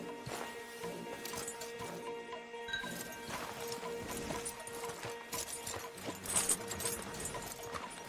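Horses' hooves clip-clop steadily in Red Dead Redemption 2 as stallions are led along, a soft rhythmic patter under layered game ambience and background music.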